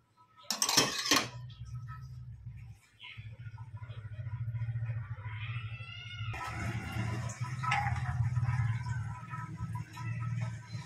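Crockery plates and dishes being arranged in a home kitchen, with a burst of clinking near the start and then steady light rattles and knocks over a low background hum.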